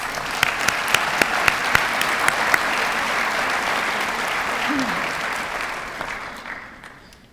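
An audience at a scholarship awards ceremony applauds the recipients in a sustained burst of steady clapping that fades out toward the end.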